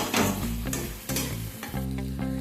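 Tomato paste stirred into a frying duck egg curry masala, sizzling steadily while a spoon scrapes and stirs the pan in quick, uneven strokes.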